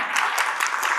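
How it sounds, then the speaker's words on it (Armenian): A church congregation applauding, a brief burst of dense, even clapping from many hands at moderate distance, no voices standing out. "որոշեցին իրենց ծափահարեն"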